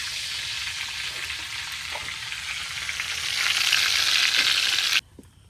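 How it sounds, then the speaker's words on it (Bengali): Cumin and panch phoron spices crackle and sizzle loudly in hot oil in a cooking pot, a steady close frying hiss that swells before cutting off abruptly. "আর ফোড়নে যাচ্ছে জিরে আর পাঁচফোড়ন একসাথে।"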